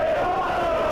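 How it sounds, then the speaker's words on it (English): A wrestling crowd at a TLC match chants in unison, a loud, sustained mass of voices holding a single drawn-out note for the full second. "The crowd chanting, this is awesome, and yes it is."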